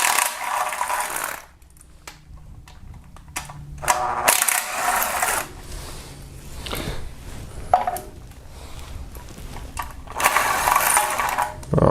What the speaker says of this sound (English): start removing with 10mm socket a few bolts